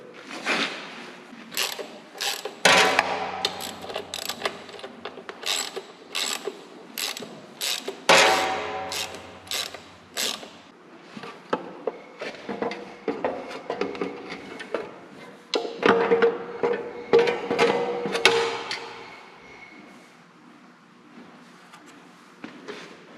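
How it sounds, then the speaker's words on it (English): Valve cover coming off a Ford Jubilee tractor engine: a string of close, sharp metallic clicks, ratcheting and clanks in uneven bursts, with quieter gaps between and a fading tail. "So yeah, I'm going to take the valve cover off and we're going to take a look at it."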